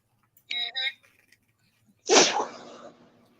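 A single loud, close sneeze bursts out after a short pause, preceded by a couple of brief tonal chirps, in a casual radio-podcast setting.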